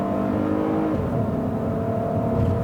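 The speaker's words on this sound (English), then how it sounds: "When you put your foot down hard, the engine barely makes any noise." A 2019 Lexus RX 350L accelerates hard from inside the cabin with a low, steady engine hum and road rumble. The sound is muted and smooth and rises only slightly, with no voices.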